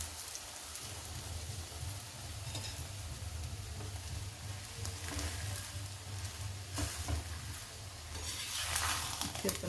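Methi aloo paratha cooking in ghee on a hot pan as it is flipped: a soft, continuous sizzle and crackle with faint scraping, gently swelling in places, quiet and close, no talking.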